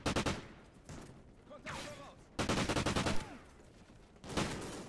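Rapid bursts of automatic gunfire rattle in several clusters, with brief gaps and faint whistling sounds between volleys, in the video game Call of Duty: Ghosts.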